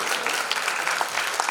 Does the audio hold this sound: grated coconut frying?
no